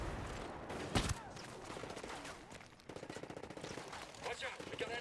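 Sniper and automatic gunfire in Ghost Recon Breakpoint, a sharp loud shot near the start followed by bursts of rapid fire and crackling combat noise, with voices talking intermittently underneath.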